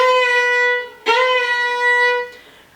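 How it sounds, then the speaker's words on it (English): A fiddle note slides up past its pitch with a sudden scoop, then drops back down and settles, a single sustained bowed tone, close and clear with no talking, as in a demonstration of a faulty Celtic ornament. "Or I slide past it and then I'm like, oh crap, went too far and went back down."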